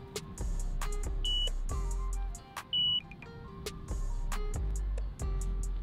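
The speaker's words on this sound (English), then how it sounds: "the ball has sensor. It will make a beeping sound." Electronic sensor inside a high-and-tight football training ball, giving repeated short, sharp beeps in an irregular rhythm over faint background noise, close to the microphone.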